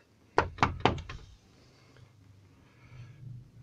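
Four sharp knocks rap on a door or wall inside the old Ancient Ram Inn, close and firm in quick succession, then fade into a quiet, slightly hissy room.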